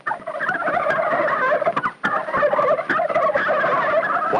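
An angry male turkey gobbles loudly and close, with repeated rapid warbling calls in two bursts separated by a brief pause, heard alone on a farm.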